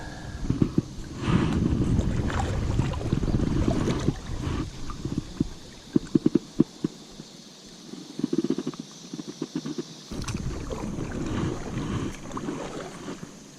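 Paddling a kayak along a shallow river with logs sticking out of the water: repeated splashing strokes and water gurgles near the boat, quiet overall, with wind buffeting the microphone and a brief lull midway.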